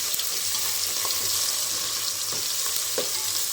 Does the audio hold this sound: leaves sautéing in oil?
yes